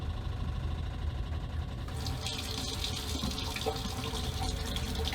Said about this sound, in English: I'm gonna turn our tap to hot